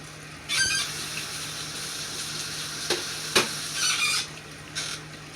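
Bacon frying in a pan: a steady low sizzle with occasional sharper pops and hissing spurts, close up, with no talk.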